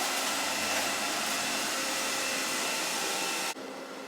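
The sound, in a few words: iLife V5S Pro robot vacuum and mop running on hard floor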